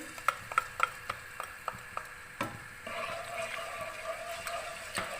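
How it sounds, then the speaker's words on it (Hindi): Whole garam masala and ginger-garlic paste frying in oil for an egg and potato curry, with a run of sharp ticks and clicks followed by a soft, steady, low-level sizzle. "इसको थोड़ा सा 2 मिनट के लिए हम फ्राई करेंगे।"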